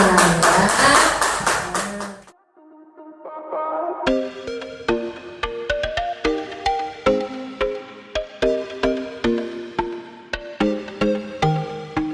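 Applause rises from a classroom of primary students for a student group, dense clapping for about two seconds, followed by a short pause and then tuned percussive chime tones ringing in a steady rhythm.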